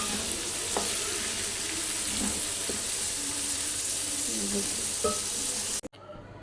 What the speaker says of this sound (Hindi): इनको मैं साथ ही ऐड कर दूँगी। इसको जो मैं अब अच्छी तरह से भून लूँगी।